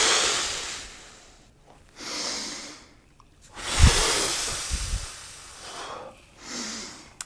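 Heavy breathing during a floor exercise: several long, loud breaths close by, inhales and exhales alternating in a slow, steady rhythm.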